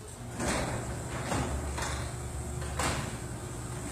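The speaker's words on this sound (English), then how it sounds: "And we'll close the door." A repaired garage door lowers smoothly, giving a steady rumbling roll with a few soft clunks as it closes, heard alone at moderate volume over faint background hum.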